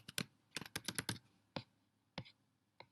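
Fast bursts of typing on a computer keyboard while entering a web address, a quick run of close, crisp key clicks followed by a few isolated keystrokes with pauses between them.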